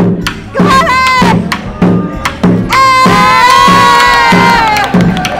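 Children in a classroom cheer and shout loudly together, sustained excited voices rising into a long collective yell with scattered thumps.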